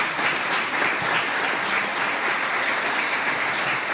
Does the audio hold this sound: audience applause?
yes